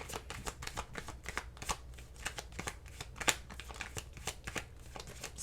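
Tarot cards being shuffled close up, a rapid run of crisp riffles and soft flutters with brief pauses between, alone with no talk.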